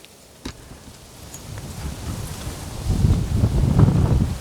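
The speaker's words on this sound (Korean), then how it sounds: "와 바람" Gusting wind buffets the microphone outdoors on a fishing trip, a low rumbling roar that builds and grows louder in the second half, with a brief knock near the start and no talking.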